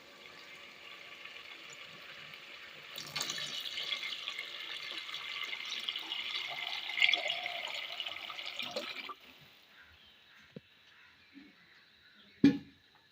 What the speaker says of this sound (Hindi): अब हम इसमें चावलों के डबल पानी डाल देंगे।